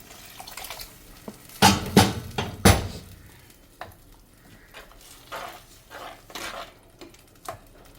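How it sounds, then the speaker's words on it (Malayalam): Tamarind water goes into a hot pan of small-fish curry, a burst of splashing and sizzling followed by softer stirring, scraping and bubbling. The sounds are close and uneven, and no one speaks. "ഇനി നമുക്കിതിലേക്ക് പുളിവെള്ളം ഒഴിച്ചു കൊടുക്കാം. ഇത് പുളി പിഴിഞ്ഞ് വെച്ചതാണ്."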